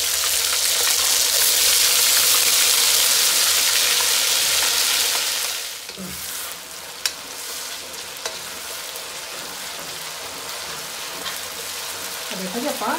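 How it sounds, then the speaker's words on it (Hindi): Ginger garlic paste and asafoetida fry in hot oil for a mix vegetable pickle, a loud steady sizzle for about six seconds that then drops to a quieter crackle with faint stirring. "आप अदरक तो लसन भी चंगी तरह भुन लेना"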